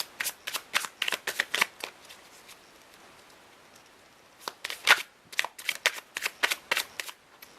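A deck of oracle cards is riffled and shuffled in two quick bursts of crisp, rapid flicks, separated by a short quiet pause, close by and fairly soft.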